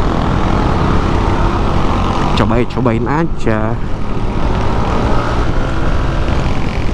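A steady, loud Yamaha Aerox 155 VVA scooter engine drone with stock exhaust runs throughout, with a brief spoken phrase in the middle.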